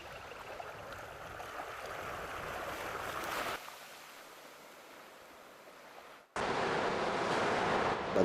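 Sea waves pounding the black volcanic beach of Anak Krakatau, a broad roar of surf with wind, quieter in the middle before the loud wash returns.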